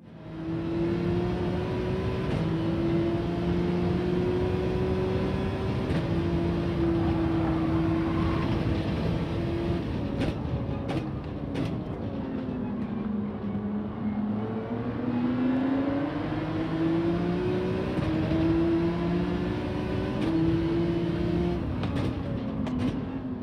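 Racing car engines in Gran Turismo 7 drone and rise through gear changes, pitch sweeping up and down over a steady loud roar for the whole stretch, with no talk.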